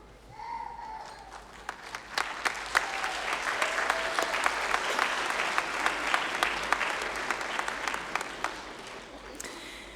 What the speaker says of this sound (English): offer a round of applause to thank these special people for their love, encouragement, and unwavering support